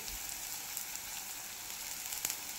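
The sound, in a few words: bombil dry fish frying in pan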